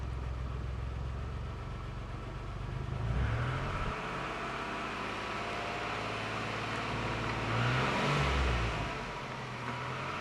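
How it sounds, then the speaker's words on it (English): Small Geo Metro engine idling steadily just after being restarted, a continuous low hum at close range with two brief rises in revs. "It's idling at 900 now that I just restarted it."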